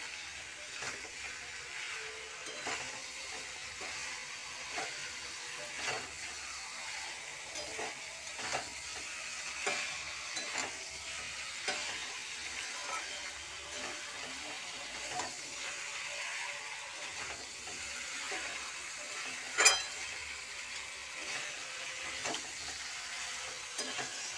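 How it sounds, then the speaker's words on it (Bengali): Meat being stir-fried in a pan over a high gas flame, with steady sizzling and frying plus repeated scraping and stirring strokes throughout at a moderate, close level. "এখন গ্যাসটা হাই ফ্লেমে দেওয়া আছে, দিয়ে আমার মা এখন মাংসটা কষছে দেখো।"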